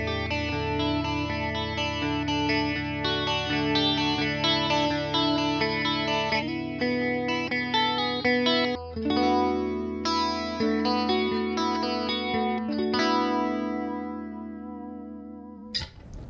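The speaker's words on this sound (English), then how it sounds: "We know it would sound good with chorus." Electric guitar played through a Fender Princeton Reverb ToneMaster amp with a chorus pedal, ringing sustained chords and picked notes with a shimmering, wavering tone, clear and close, ending with a brief thump.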